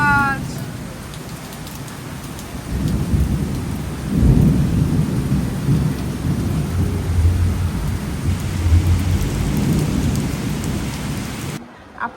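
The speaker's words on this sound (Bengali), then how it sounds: "আজকে সেই ঝুম বৃষ্টি হচ্ছে" A heavy downpour roars steadily and loudly, with deep rumbling thunder swelling in the middle before the sound cuts off abruptly.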